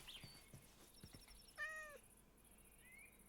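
A cat meows once in the video game Minecraft, a clear rising and falling cry standing out over faint background game sounds, with a few soft clicks and a short chime beforehand.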